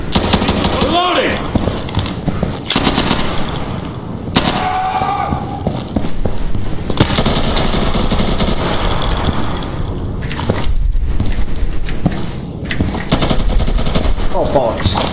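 Rapid bursts of automatic gunfire in the Insurgency video game, loud and close with dense repeated shots across the clip, plus short gaps and some voices mixed in.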